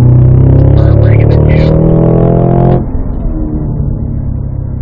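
Cadillac CT5-V Blackwing with a six-speed manual accelerating out of a turn on the Spring Mountain race track in Pahrump, a loud, rising engine roar with climbing harmonics that cuts off abruptly near the end into lower, rougher engine noise.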